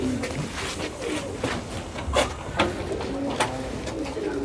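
Pigeons coo steadily in a loft in Sonipat, Haryana, a run of soft repeated calls overlapping one another at close range, with no talk.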